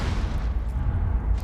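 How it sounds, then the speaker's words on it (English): Explosions go off in a Counter-Strike match between Team BDS and Virtus.pro at the Montreal Major, heard as a sustained low, rumbling boom that rolls on throughout. "Explosions going off."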